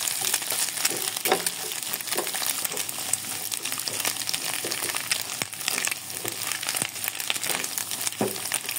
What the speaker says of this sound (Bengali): ডিম দুটাকে সাইড করে হালকা করে ভেজে নিব